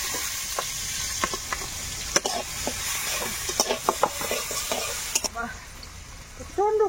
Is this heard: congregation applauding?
no